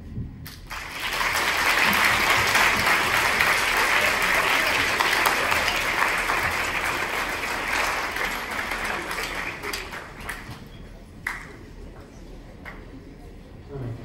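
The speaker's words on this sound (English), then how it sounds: "One more round of applause for everybody." Sustained audience applause at a high school Black History program, a dense, loud wash of many clapping hands that holds steady for several seconds, then thins and tapers off with a few scattered last claps.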